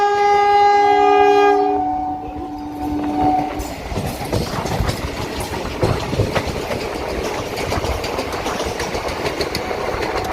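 A Guntur–Vijayawada MEMU train sounds its horn in long steady blasts, then runs on with loud rumbling and rhythmic clickety-clack of wheels over the rails, close and continuous.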